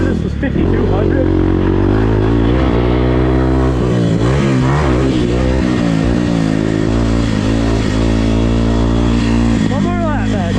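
A 2024 Kawasaki KLX300R dirt bike runs a lap on a turn track, its single-cylinder engine droning and revving up and down close by, with someone talking over it.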